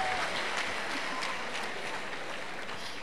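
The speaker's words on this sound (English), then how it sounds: "Can you give them a hand of applause?" Audience applause at a university leadership lecture in Ghana, a steady, full-room burst of clapping heard on its own and fading only slightly.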